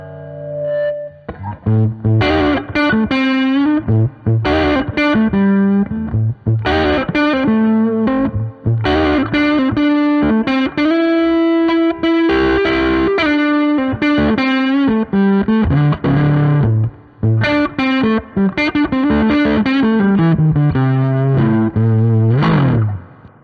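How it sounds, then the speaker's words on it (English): Fuzzy, distorted electric guitar from a Les Paul through three fuzz pedals plays a continuous run of chords and single-note lines, thick and saturated, with brief pauses between phrases and no talking. "It's just that edge of fuzz as you wind it up."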